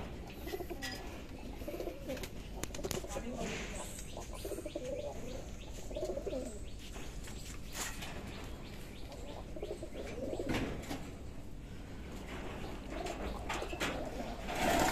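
Pigeons coo in a loft full of nesting boxes on a farm, with repeated soft low coos and chirps from several birds overlapping steadily, plus occasional wing flaps and rustling.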